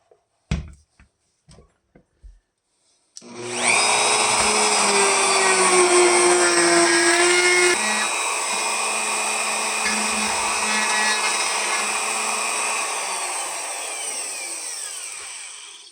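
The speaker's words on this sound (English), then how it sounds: "I've gone as deep as I can go with that little short drill bit" A drill with a short bit bores into a Telecaster-style guitar body, a few sharp taps first, then a steady whining, grinding drone that runs loud for several seconds before easing and winding down.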